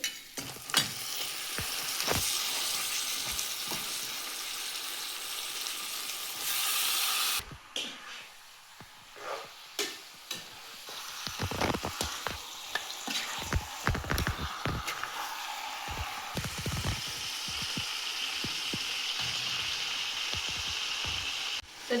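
Fish pieces dropped into a pan of hot fried spices for a Marathi-style curry, giving a steady, close sizzle and frying hiss broken by stirring scrapes and clatters of the utensil.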